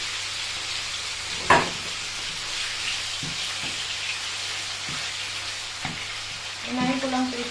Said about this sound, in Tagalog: Unahin ko yung chicken. Medyo piprito ko muna to.